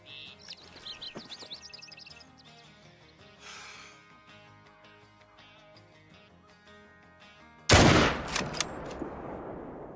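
A single sharp, loud .303 bolt-action rifle shot rings out in a Call of the Wild whitetail hunt, echoing and fading after a stretch of quiet bird chirps and soft ambient tones.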